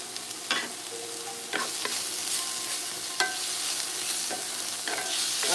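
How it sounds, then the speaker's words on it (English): Meat sizzles and fries in a pot for a Haitian stew, a steady bright hiss broken by several clinking stirs and scrapes of a utensil, close and without talk. "Whenever you're making your meat, you fry your meat and then you put it in the pot, right? So that's what I'm doing."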